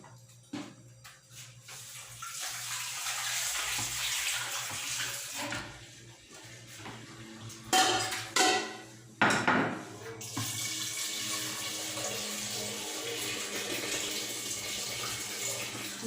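Food being rinsed by hand under a running kitchen tap while cooking Sunday lunch, a steady close stream of water with brief louder splashes and clatters in the middle as the food is moved under the flow.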